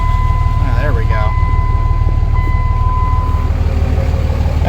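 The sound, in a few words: Dodge Cummins diesel truck engine running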